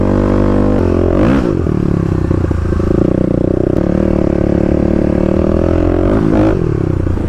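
A stage 3 Kawasaki KLX351 dirt bike ridden on a beach, its engine droning loud and close with a steady throttle, a couple of brief revving surges and some clattering throughout.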